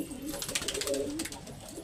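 Pigeons coo close by in a short burst of soft, throaty bird calls, with no one talking.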